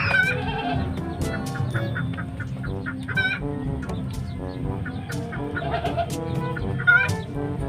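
Chickens cluck and squawk in short, irregular bursts, close and busy, with animal calls overlapping in a farmyard clamor.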